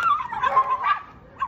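Dogs yipping and whimpering in a confrontation between two female dogs on a walk, several high excited yelps and whines clustered close by, fading then one more short yip at the end.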